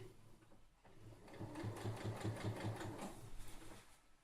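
Close and fairly quiet, a sewing machine runs a pin stitch around the edge of fabric, a quick run of regular mechanical thumps after a brief start-up.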